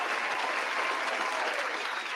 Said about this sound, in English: you got to give the guy the round of applause